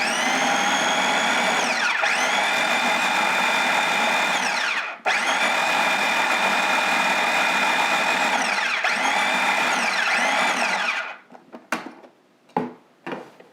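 A mini food processor pulses and chops white strawberries into a puree, its loud motor whirring in several long sustained bursts with brief pauses, then trailing off into short choppy pulses at the end, with no talking.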